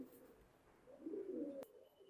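Male pigeons in a loft coo, a faint low burbling that swells and then stops, with a brief click near the end.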